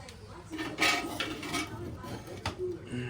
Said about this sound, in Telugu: వేడి వేడి బిర్యానీ కలపాలి కదా ఫస్ట్